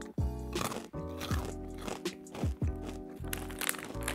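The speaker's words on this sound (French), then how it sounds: "C'est hyper croustillant, assaisonné, salé." Someone bites into a crispy, seasoned, salty fried Japanese snack, giving several sharp crunches at irregular intervals up close, with chewing between them in a quiet room.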